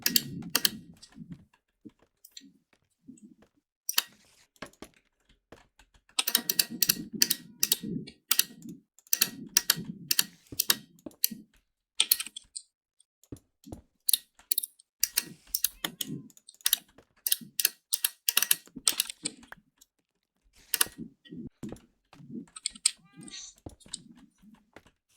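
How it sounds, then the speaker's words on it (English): Loud clicking keyboard typing in bursts of rapid keystrokes separated by short pauses, close and crisp, with no talking. "That's a lot of loud clicking."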